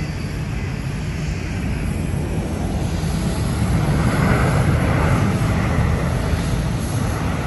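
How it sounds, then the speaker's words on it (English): Lufthansa airliner taking off at Haneda airport, a steady loud engine roar that swells slightly toward the middle as the plane climbs away, heard at a distance without talk. "Look at that Lufthansa taking off."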